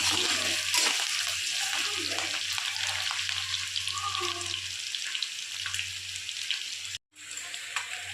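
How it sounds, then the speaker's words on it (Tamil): Green chillies and ginger sauté in oil in a pan for a citron pickle, a steady sizzle with occasional stirring scrapes, close and continuous, cutting out briefly near the end before resuming. "அதை இதில் ஆட் பண்ணிக்கிறோம். நல்லா வதக்கிக்கணும்."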